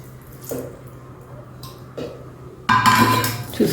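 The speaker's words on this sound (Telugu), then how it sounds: "ఈ కొంచెం నీళ్ళు కూడా పోసేద్దాం." Water poured into ragi (finger millet) flour in a bowl and mixed into dough; soft wet squishes and small clinks, then a louder splashing pour and stirring near the end.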